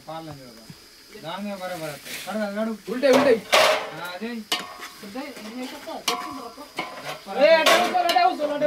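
A metal ladle scrapes and clanks against a pot while Telangana-style bandapu bagara is stirred outdoors, irregular close scraping and knocks with a faint sizzle beneath, and people talk throughout.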